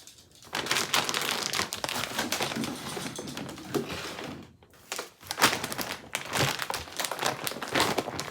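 A plastic bag crinkles and crumples close up in loud, dense bursts for several seconds, with a brief pause near the middle, and no talking.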